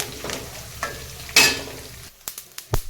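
Curry leaves frying in hot oil, with soft crackling and a sudden loud spattering burst midway, followed by a few sharp clinks and scrapes of a utensil, close up and without talk.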